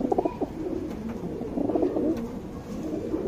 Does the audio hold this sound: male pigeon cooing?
yes